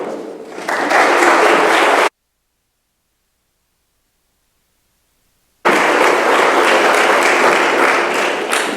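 Audience applause welcoming Dr. Farr Curlin as a speaker at King University, a dense, loud wash of clapping that fills the hall, breaks off into silence for several seconds, then resumes just as strongly.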